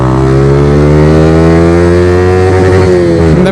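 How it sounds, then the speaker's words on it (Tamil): Yamaha R15m motorcycle exhaust while riding, a loud, steady engine drone with strong harmonic tones that holds close and constant, dipping briefly near the end as the revs shift. "அவ்வளோ சவுண்ட் அடிக்குதுங்க எனக்கு நம்ம எக்ஸாஸ்ட்லேருந்து"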